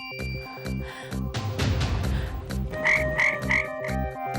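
A person imitates a frog, giving a continuous croaking over a busy background of music, loud and close with no clear talk.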